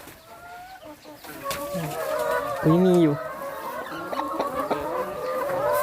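Hens cluck and croon nearby in a steady, murmuring chorus as one lays an egg, with one louder drawn-out call in the middle and a brief spoken remark.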